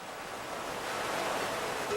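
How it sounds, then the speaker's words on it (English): A 37-foot waterfall in a Vail garden cascades in a steady, dense roar of rushing water that holds even throughout, with no voices. "This dazzling 37-foot waterfall roars with the sound of cascading water"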